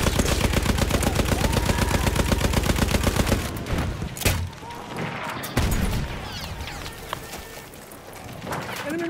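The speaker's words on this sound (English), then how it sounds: "Machine gun on there." A Lewis machine gun fires in a video game set at Suez: a loud, rapid, sustained burst of shots for about three and a half seconds, then it stops, leaving scattered sharp bangs and a quieter battlefield background.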